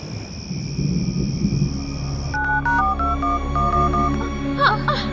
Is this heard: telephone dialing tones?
yes